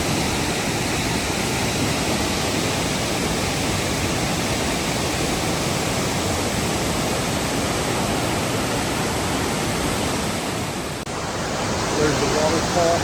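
Loud, steady roar of McArthur-Burney Falls crashing down close by, a dense broadband rush that holds constant throughout, with faint voices briefly audible near the end.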